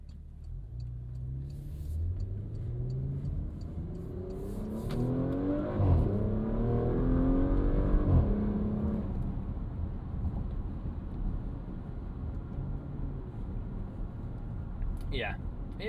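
A 2023 Porsche Macan S compact SUV pulls hard from inside the cabin, its engine note rising through several quick upshifts before settling into a steady road rumble, with a brief high tone near the end.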